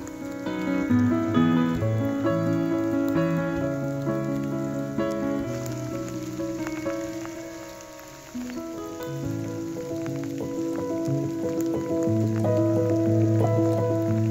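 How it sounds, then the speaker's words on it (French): Steady rain patters throughout, blended with sustained tonal music playing over it at an even level. "Goûtons à la pluie."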